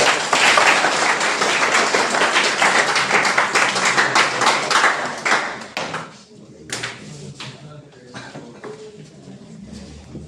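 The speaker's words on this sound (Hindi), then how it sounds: "कैलाश प्रसाद यादव सर को आमंत्रित करता हूं और आप सबों से एक बार अनुरोध करेंगे कि एक बार तालियों के साथ सर का" Audience applause in a college smart classroom at a Swami Vivekananda Jayanti and National Youth Day event, welcoming the principal: loud, dense clapping that thins after about five seconds into scattered claps, taps and shuffling.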